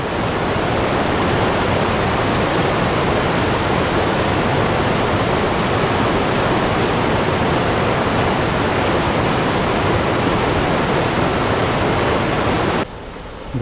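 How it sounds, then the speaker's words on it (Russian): Waterfall in the Altai mountains near Belukha, a loud, steady, dense roar of falling water that holds unbroken for nearly the whole span before cutting off abruptly at the end. "Дошли до водопада."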